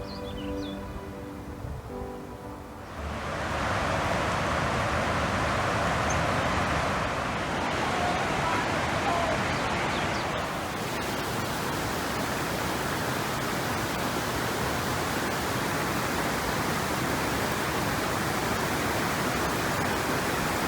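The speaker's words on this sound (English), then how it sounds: "Can you hear the waterfalls?" The steady roar of Zapata Falls rushes loud and continuous, washing in after a few seconds and holding as an unbroken wall of falling water nearby.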